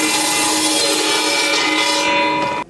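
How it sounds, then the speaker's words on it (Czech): A historic steam traction engine drives a saw outdoors in front of a chateau, giving a loud, continuous high whining cut through wood that ends abruptly, with no talking. "historická parní lokomobila, která před zámkem poháněla pilu."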